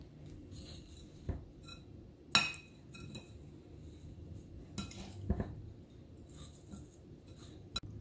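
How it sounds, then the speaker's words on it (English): A utensil stirs rhubarb crisp filling with flour in a bowl, giving quiet, close scraping and scattered light clinks against the bowl, with a few sharper knocks spaced irregularly and no talking. "And 3 tablespoons of flour. Then give it a good stir."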